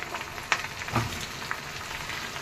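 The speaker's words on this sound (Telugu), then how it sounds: "నేతితో తిరగమాత వేస్తే పచ్చిమిరపకాయలు ఎండుమిరపకాయలు" Green and dry red chillies sizzling in hot ghee for a tempering, a faint, steady crackle with a few small pops and spits standing out, no voices over it.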